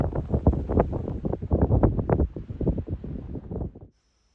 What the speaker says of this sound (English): The entire wash was just blowing dirt.